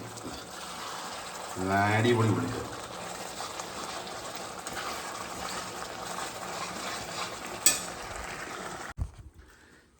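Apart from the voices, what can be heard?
onion curry boiling in a pot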